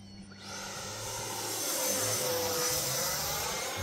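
A Freewing T-33 80mm radio-controlled jet with a ducted-fan engine roars steadily and fairly close. The broad whooshing whine holds and swells slightly rather than fading.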